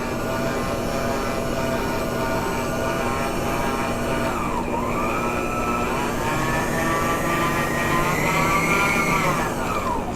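An electric stand mixer runs steadily while beating German chocolate cupcake batter with buttermilk and flour, a constant close whine with shifting pitch and no talk.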